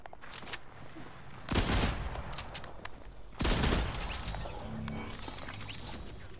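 Gunfire in Fortnite comes as two loud, dense bursts of rapid shots with a scatter of sharper single cracks and hits before, between and after them.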